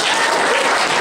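Dense, steady applause from a convention audience at a costume contest, filling the whole moment at an even loudness with no voices on top.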